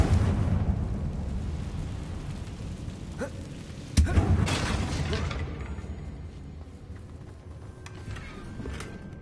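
A Confringo fire spell in Hogwarts Legacy bursts with a sharp crack followed by a rumbling, fading explosion, set against a dense ambient game background.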